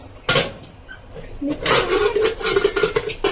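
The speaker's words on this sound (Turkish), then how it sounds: "Şimdi güzel didip bir tenceremizi kapatıyoruz." A lid is set onto a cooking pot holding salted chicken in a home kitchen, a single metallic clank followed by light clattering and rustling while someone talks.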